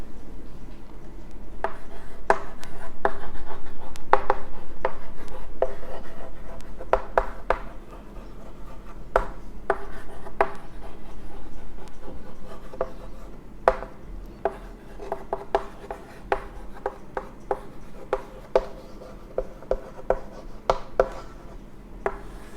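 Pen or marker writing math equations by hand on a surface during a class 10 coordinate geometry lesson, giving a steady run of short scratchy strokes and taps alone, fairly close, with a low background hum.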